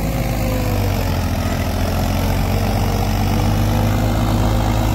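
A Mahindra M Tech tractor engine runs steadily with a loud, continuous low diesel rumble and no pauses, heard up close.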